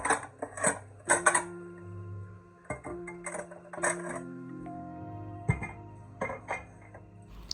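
Washed dishes, pots and cutlery being put away in a home kitchen: repeated clattering clinks and metallic knocks of steel pans and utensils, some ringing tones lingering between bursts, close and fairly loud with no talking.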